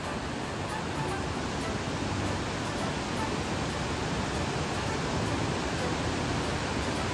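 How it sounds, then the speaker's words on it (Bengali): Steady, dense roar of Devkund Falls in Balasore, Odisha, water plunging from a height, heard from a distance as a constant rushing wash with no breaks. "একদম দূর থেকে ঝরে পড়ছে ঝর্ণার জল।"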